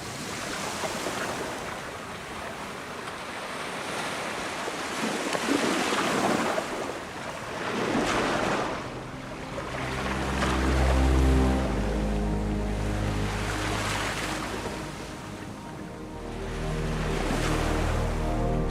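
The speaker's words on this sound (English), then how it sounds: "Surging waves coming in from the vast ocean enter the bay and push on landwards." Ocean waves surge into a bay and push toward shore, a loud, continuous wash of surf with rolling swells and a deep low rumble, accompanied by wind buffeting the microphone.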